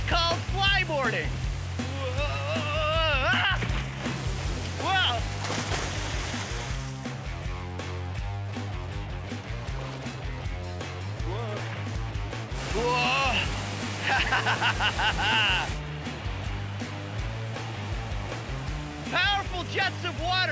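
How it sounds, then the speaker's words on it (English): Powerful water jets roar from a flyboard driven by a watercraft engine, a dense, steady rushing hiss that runs for about twenty seconds with a voice heard over it. "Powerful jets of water are being shot out from this board at my feet."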